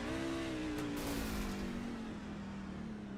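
Race truck engine at Mid-Ohio screaming at very high revs after downshifting one gear too many, a loud sustained whine that slowly drops in pitch, with a brief rough burst early on.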